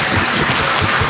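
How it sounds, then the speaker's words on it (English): Audience applause for Durga at a school annual day show, a short, steady wash of clapping from a seated crowd, fairly loud and continuous throughout. "Can we get a round of applause for Durga?"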